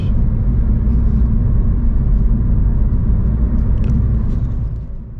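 A rental car drives along a road near a rural mountain farming village, producing a loud, steady engine and tire rumble from inside or close by that eases slightly toward the end.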